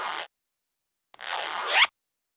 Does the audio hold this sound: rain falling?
no